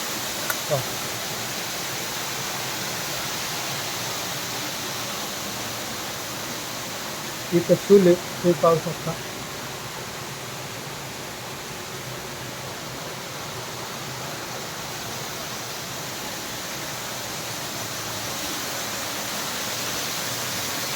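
A steady, even roar of falling water from a waterfall at Amboli fills the scene from start to finish, with a brief burst of speech partway through.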